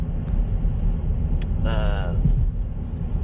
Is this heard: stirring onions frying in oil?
no